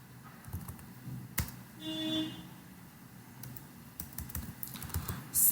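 Keys clatter on a computer keyboard in irregular bursts of close, crisp taps with short pauses between them, alongside some faint background noise and no talking.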